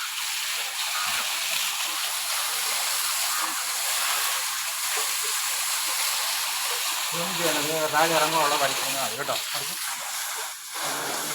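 A water jet hosed across a wall to wash off dust before the summer rains, a steady loud hiss and spatter running throughout, with a voice talking over it partway through.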